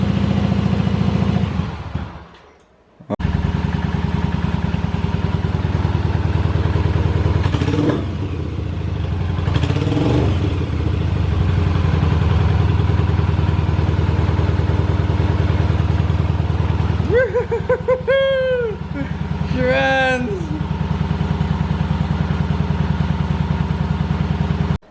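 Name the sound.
1985 Yamaha Virago 750 motorcycle engine running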